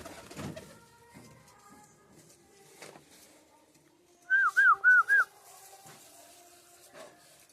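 Pigeons give a short series of about four coos in quick succession, standing out near and clear against a quiet room with faint background noise.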